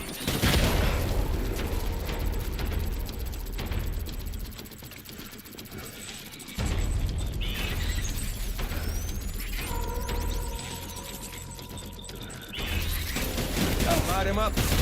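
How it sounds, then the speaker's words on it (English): Gunfire in the video game Death Stranding, a loud sustained fusillade of rapid shots with booms, continuing through most of the stretch with brief lulls, mixed with game effects and voices talking. "Open fire. What are they firing at?"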